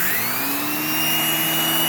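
A Hoover React Professional Pet vacuum cleaner runs on a couch with a loud, steady motor roar and a high whine that rises slightly in pitch. The sound is close and continuous.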